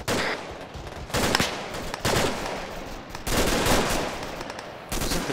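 Loud, dense bursts of automatic gunfire and rapid shots fill a military shooter video game battle, crackling almost continuously with brief dips in between.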